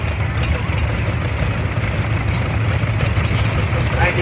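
A 1935 unstyled John Deere Model B tractor rolls past in a Rough and Tumble parade of power, its engine idling and chugging steadily close by. The low rumble holds even throughout, and an announcer talks over it.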